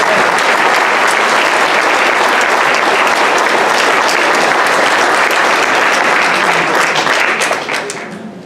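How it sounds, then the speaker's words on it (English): An audience applauds a 96-year-old veteran at an Honor Flight recognition event, dense and loud sustained clapping that fills the space and tapers off at the end. "Can we give him another round of applause?"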